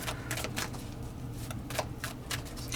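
Cards are shuffled in quick, crisp riffling bursts, close and fairly quiet, with no voices.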